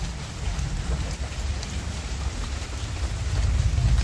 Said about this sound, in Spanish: Sí, está lloviznando.